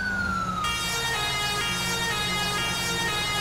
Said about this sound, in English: I think I can hear the siren from the kilo, David.